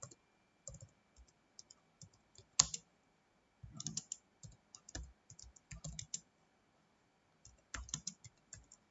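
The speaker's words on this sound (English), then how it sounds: "We'll type the program." Typing a program on a computer keyboard: irregular bursts of quick, crisp key clicks with pauses between them, recorded close in a quiet room.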